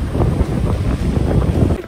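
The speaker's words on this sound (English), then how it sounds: "It's very windy." Strong gusting wind at the beach roars against the microphone, a loud, steady buffeting rumble that drowns out everything else.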